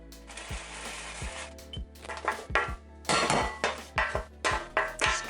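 A hot metal baking tray set down with a clatter, then baked pieces tipped into a bowl, giving a run of sharp, close clinks and knocks that grow denser and louder toward the end, with no talk.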